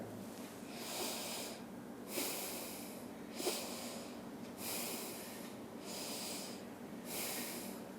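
Slow, deep yoga breathing for migraine relief: about six long, airy inhales and exhales in a steady rhythm, close and soft, with no talking.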